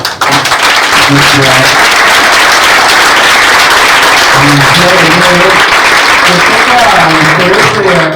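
A large audience applauds at a tribute ceremony for a doctor, sustained dense clapping throughout with cheers and voices mixed in.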